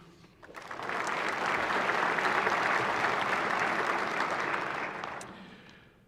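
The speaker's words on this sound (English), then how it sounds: "please join me in a round of applause for our distinguished guests" An audience at a State of the Judiciary address applauds distinguished guests, the clapping swelling quickly into a full, even round, holding steady for several seconds, then tapering off.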